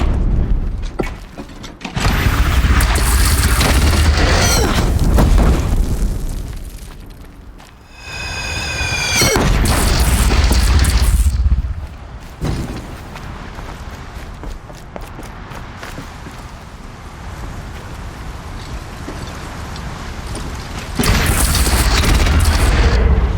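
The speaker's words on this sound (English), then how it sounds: "Deathbringer fire incoming!" Deathbringer machine fire in Horizon Zero Dawn strikes with loud booming explosions in heavy bursts, separated by quieter stretches of rumble and rapid mechanical rattling.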